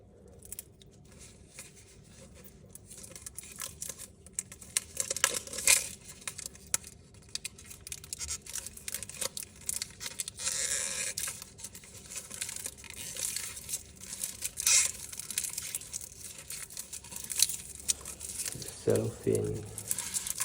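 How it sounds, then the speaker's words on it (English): Cellophane wrapper being peeled and torn off a Kings Wild Project Double Eagles playing card deck, close crinkling and crackling bursts with sharp tearing rustles, intermittent and fairly quiet. "Cellophane coming off."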